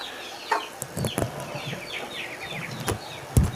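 Broiler chickens cluck and chatter nearby in a coop, with a few sharp calls and brief wing rustles against a low background hum.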